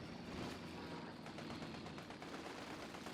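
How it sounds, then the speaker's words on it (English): Sustained rattling gunfire from a Company of Heroes 2 battle, dense overlapping bursts of rifle and machine-gun fire at steady loudness throughout, with no voices. "Someone's shooting us! It's only bullets!"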